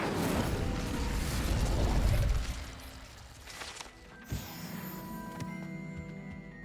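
A fire spell cast in Hogwarts Legacy, heard as a dense, loud whooshing burst of flame that roars for about two seconds, then falls away into quieter game ambience with a single sharp pop and lingering tonal hum.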